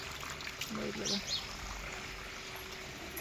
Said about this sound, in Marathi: हा बोर चालू केलेला आहे बघा